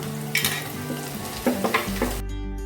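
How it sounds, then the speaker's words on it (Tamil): Chopped tomatoes sauté in a pan for parotta salna, giving a close sizzle punctuated by several sharp utensil knocks and stirs, with a steady hum underneath near the end. "இங்கே ஒரு 2 தக்காளி வெட்டி வச்சுருக்கிறேன். இப்போ இதை சேர்த்து வதக்கிக்கலாம்."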